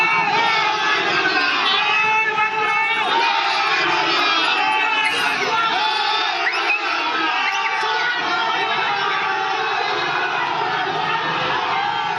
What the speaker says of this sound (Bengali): পাল্টা স্লোগান বিজেপি কর্মীদের।